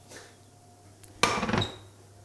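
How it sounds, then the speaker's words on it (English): A non-stick frying pan is set down and handled on a kitchen bench, giving a short burst of metallic clatter and scraping, close and moderately loud, after a quiet stretch. "we're bringing out ye old favourite non-stick pan, Pamela Anderson."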